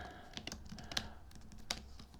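Close keyboard clicks as a password is entered on a computer keyboard, a few irregular keystrokes with sharper taps standing out over a low room hum.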